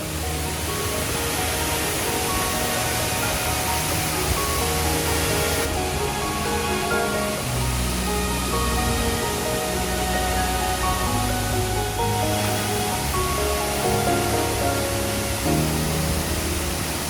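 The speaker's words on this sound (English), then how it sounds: "It was neat to see such a variety of different waterfalls on this trail." A waterfall on a trail in Lamington National Park rushes in a constant, dense, loud roar that stays unchanged throughout, with no voices.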